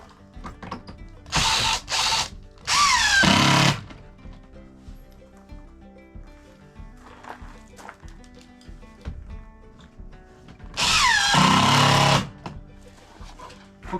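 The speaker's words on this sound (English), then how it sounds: "May as well put 4 screws in here too" A cordless power drill drives screws into a shelf in a few short, loud whirring bursts, then one longer run, with quieter handling clatter and rustling between them.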